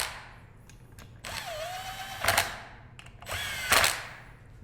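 Impact wrench running down bolts on a 2017-2021 Can-Am X3 Maverick clutch during a Dalton clutch kit install: two sharp whirring bursts, each ending in a louder rattling hammer, close by and without talk.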